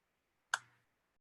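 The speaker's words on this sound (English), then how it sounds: "if we hit the backslash key on our keyboard" A single crisp click of the backslash key being pressed on a computer keyboard, close and isolated in near silence, with a short decay.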